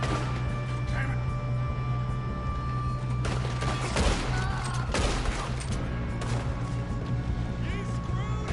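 Gunfire in Red Dead Redemption 2, scattered shots and crashing impacts over a steady low game hum, with a couple of sharper louder bursts midway, heard alongside talk.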